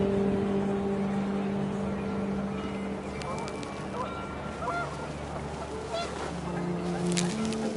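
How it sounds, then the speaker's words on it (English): Panicked geese honking in a video game over a steady wind-like drone, with several overlapping honks and calls rising in the later part, mid-distance and partly masked by the background bed. "panicked geese appeared and quickly went"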